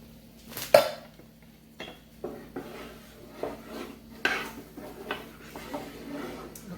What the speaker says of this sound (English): I'm going to cook up my tomato sauce now and just put it into the skillet